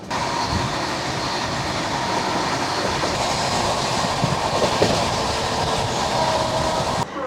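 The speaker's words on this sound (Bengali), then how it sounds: "আমাদের ট্রেন ষোলোশো পঁচাশি কিলোমিটার যাত্রা করে চলে এসেছে পাঞ্জাবের লুধিয়ানা স্টেশনে" A passenger train bound for Jammu, near Ludhiana in Punjab, rumbles steadily on its rails, a loud continuous roar with faint rhythmic clatter and no talk throughout.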